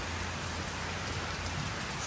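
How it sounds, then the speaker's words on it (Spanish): Torrential rain pours steadily outside after nearly two weeks of downpours, a dense, even hiss of drops striking surfaces with a low rumble underneath, continuous and close, with no voices. "Sigue lloviendo, amigas y amigos, no para de llover."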